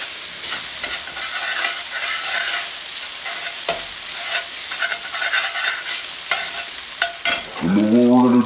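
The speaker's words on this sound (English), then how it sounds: "Let that fry." Ramen noodles fry in a hot pan, giving a continuous bright sizzle with crackling pops and occasional stirring scrapes, close and loud, until a low rising tonal swoop enters near the end.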